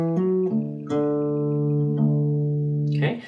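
Electric guitar riff from a song, several plucked notes in sequence with sustained ringing tones, close and steady, ending in a brief scrape of strings, with no talking.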